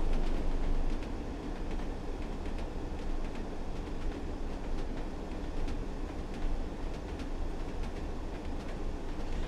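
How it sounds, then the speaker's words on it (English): Class 101 diesel multiple unit on the Tees Valley Line between Middlesbrough and Darlington in a train simulator game, a steady rumbling interior drone with rhythmic clickety-clack wheel beats over rail joints, continuous and fairly loud with no voices. "I love the clickety-clack. It's very nostalgic."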